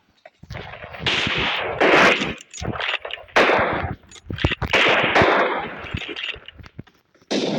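Video game gunfire in rapid bursts of loud, close shots and automatic fire, separated by brief pauses, with no talking.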